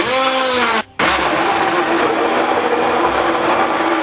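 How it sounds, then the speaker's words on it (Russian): A loud kitchen blender motor whirs with a rising pitch, cuts out briefly, then restarts and runs steadily at high speed, mixing a cream sauce. "И блендером все хорошенько перемешайте."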